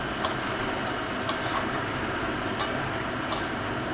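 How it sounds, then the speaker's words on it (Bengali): Prawns frying in a pan for a Bengali banana-flower and prawn dish give a steady, close hiss of sizzling oil, with a few faint ticks and spatters breaking through. "চিংড়ি মাছগুলো ভাজা হয়ে গেছে বন্ধুরা।"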